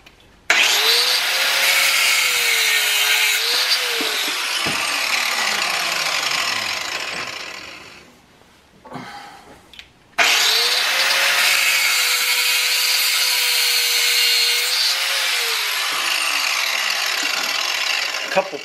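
A power saw cuts through a 1/4 inch solid metal bar in a workshop: two long, loud, grinding cuts with a sustained whine, separated by a brief pause as the blade spins down and restarts.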